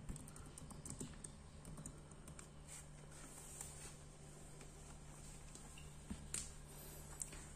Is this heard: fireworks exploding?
no